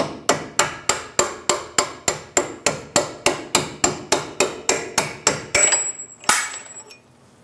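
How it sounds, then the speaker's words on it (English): A steel hammer strikes a bolt and punch to drive it out of the front lower control arm of a 2001-2006 Chevrolet Silverado 2500 HD, about twenty sharp, evenly spaced metallic blows in steady rhythm, close and loud, then a couple of final clanks. "Using a hammer, tap the bolt through, and then use a punch to tap it through the hole."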